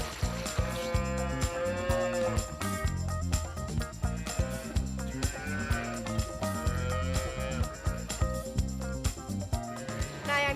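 Calves lowing in a dairy farm pen where young bull calves are kept, drawn-out moos repeating loudly and close, overlapping one another in a busy, steady chorus with no talk.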